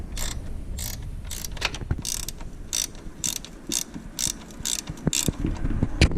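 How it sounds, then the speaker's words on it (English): A pair of 10mm wrenches loosening the rear wheel nut of a bicycle, giving a steady run of close metallic ratcheting clicks and scrapes with short rhythmic bursts, no talking. "Right now we're gonna release this nut"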